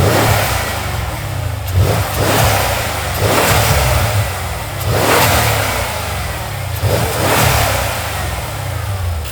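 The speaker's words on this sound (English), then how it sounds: "to hopefully beef up the turbo noises up front" An AMG twin-turbo engine with aftermarket intakes revs repeatedly, loud surging pulls rising and falling several times over a rumbling idle, close and alone.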